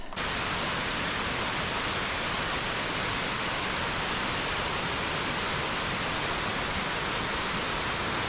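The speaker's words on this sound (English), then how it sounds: "Behind us is a nice waterfall." A waterfall behind hikers on the Appalachian Trail in a spot of moss-covered rocks and trees, giving a steady, loud, broadband rush of falling water that holds evenly throughout with no talking.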